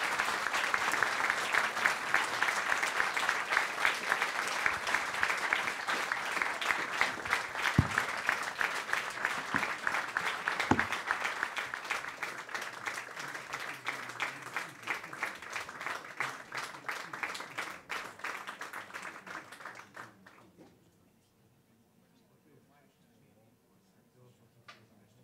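Audience applause for a visiting patriarch and cardinal at a talk, dense sustained clapping from a sizable crowd that carries on for about twenty seconds before fading out, followed by quiet room tone.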